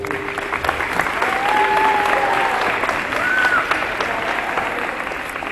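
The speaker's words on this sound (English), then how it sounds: "let's give him a big round of applause" An audience applauds a speaker at a live talking event, steady dense clapping across the whole stretch with crowd noise, a few whoops rising over it.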